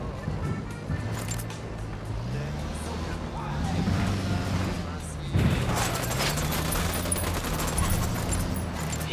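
Gunfire in the shooter game Ghost Recon Wildlands, with bursts of shots and rumbling engine-like noise over a steady background while characters talk.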